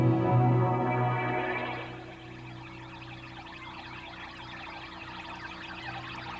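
A sustained synth string tone on a Kurzweil K2000 fades into a dense, chirping texture like jungle birds over a steady low drone, continuing alone without talk.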